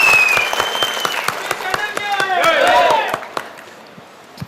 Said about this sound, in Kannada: ಅವರಿಗೆ ದೊಡ್ಡ ಚಪ್ಪಾಳೆ ಮುಖಾಂತರ ಆಶೀರ್ವಾದ ಮಾಡಬೇಕು.